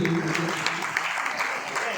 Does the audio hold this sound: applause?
yes